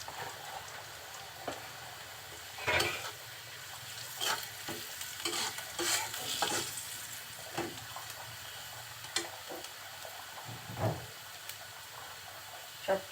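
Spoon stirring radish greens seasoning frying in hot oil with turmeric and salt in a pan, scraping strokes and clicks over a steady sizzle, close and moderately loud, with a few brief bursts.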